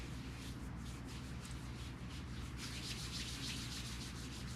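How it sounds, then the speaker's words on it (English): Two hands rub lightly together during a qi gong warm-up, a soft continuous swishing friction close by with gentle rhythmic surges, over a low steady hum. "we're just going to rub the hands lightly together"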